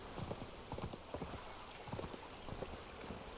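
Horse hooves in the video game Conan Exiles beat a quick, rhythmic clip-clop as the mount sprints, moderately close and fairly quiet, with no talking.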